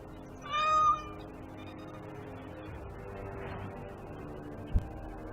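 A cat in the video game Dragon Age: Origins – Awakening gives one clear, close meow near the start, followed by quiet game ambience and a single soft knock later on.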